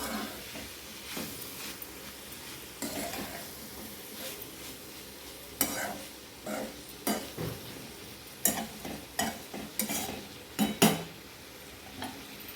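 Cluster beans frying in a pan are stirred with a spoon, producing a faint, steady sizzle under irregular scraping and clinking strokes that come closer together toward the end.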